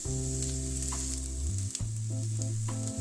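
Carrots and onion sizzle in a hot pan for mixed-vegetable macaroni, a steady close frying hiss that runs the whole way under prominent background music, with no talking.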